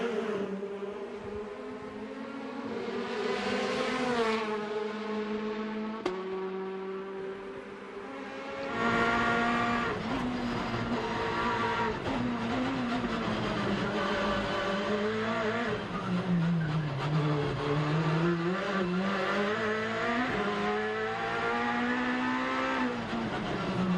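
WTCC touring race car engine during qualifying at the Macau street circuit, revving up and down through slow and medium corners in sustained loud onboard-style bursts, with gear changes and brief lifts.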